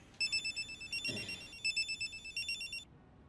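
A telephone rings loudly and close by in a comedy sketch, two bursts of rapid electronic trilling bells separated by a short pause, with no talking over it.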